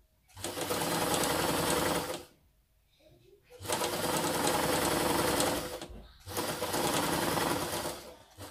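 Sewing machine stitching reusable fabric face masks, three long steady whirring runs separated by short pauses, loud and close.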